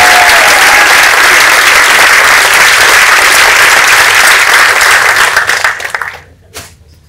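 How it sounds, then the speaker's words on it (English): Sustained, loud applause from a graduation-day audience fills the hall, holding steady for about five seconds before thinning out and fading to a few scattered claps. "Big applause to him."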